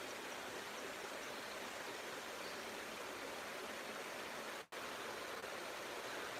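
Steady broadband rush of water pouring over a spillway, constant and full throughout with one brief dropout near the end, no voices.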